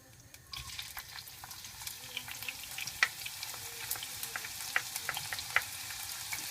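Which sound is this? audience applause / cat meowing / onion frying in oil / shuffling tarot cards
onion frying in oil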